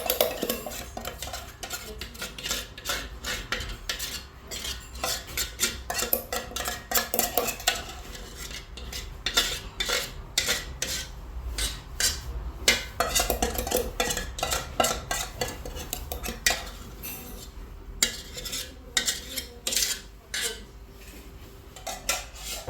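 A spoon scrapes a sesame, oil and flour mixture out of a bowl for Moroccan chebakia, with dense repeated metallic scraping and clinking close by and no talking.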